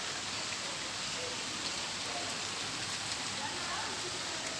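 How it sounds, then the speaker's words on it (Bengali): Steady rain falls on potted plants on a rooftop, a dense, unbroken hiss of drops that holds at the same level throughout with no other sounds. "এই ওয়েদারে দেখো কি অবস্থা, বৃষ্টি পড়েই যাচ্ছে"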